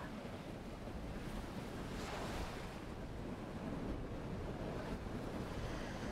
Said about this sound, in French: Écoutez les sons de l'eau roulant sur le sable, puis retournant dans la mer.